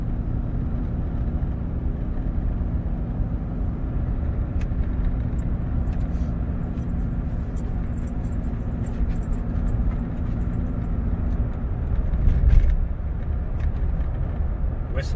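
A pickup truck drives along a road on an overcast winter morning, a steady low engine and tyre rumble that stays near and fairly loud throughout, with a brief swell near the end.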